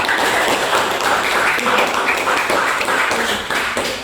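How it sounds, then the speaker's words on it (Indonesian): Classroom applause from a discussion group of teachers in training, a steady dense patter of many hands clapping close by, continuous and fairly loud throughout with no talk over it. "silakan tepuk tangan dong"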